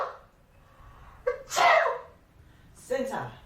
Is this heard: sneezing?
yes